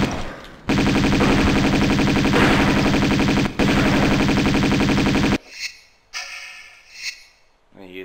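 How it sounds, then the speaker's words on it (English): Uzi fire in Tomb Raider II Remastered on the Wreck of the Maria Doria level: a loud, rapid sustained automatic burst lasting several seconds with one short break, then scattered softer game effects and echoes. "So let's get the Uzis out."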